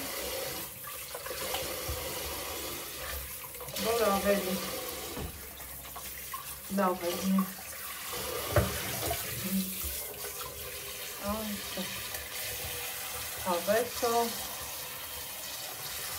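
A running kitchen tap pours steadily while an item soaks and is washed, a continuous low hiss with someone talking over it in short bursts.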